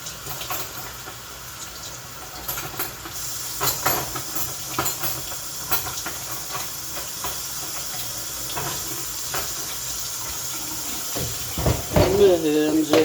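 A knife and broccoli are rinsed under a running kitchen tap. A steady hiss of flowing water carries on with faint clinks and splashes, and a louder burst near the end.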